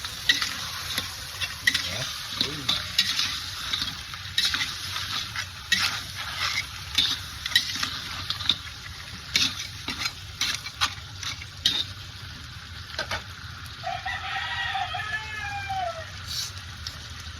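A utensil stirs and scrapes through buttered garlic and fried fish in a pan, making repeated irregular clicks and scrapes over a low sizzle. A faint chirping sound comes in near the end.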